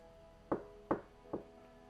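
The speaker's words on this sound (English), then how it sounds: "Came a loud knocking at the door." Three firm knocks on a door, evenly spaced and close, the last slightly softer, in an otherwise quiet room.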